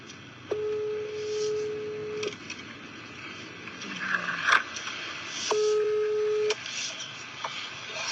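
A telephone call is placed, with steady dial or ringback tones in two long bursts separated by a gap, plus a few faint clicks and rustles nearby.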